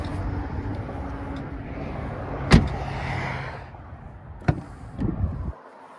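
A 2022 Ram 2500 Laramie Crew Cab 4x4 with a Cummins turbo diesel rumbles at idle, with two sharp clicks along the way, then cuts off near the end and leaves near silence.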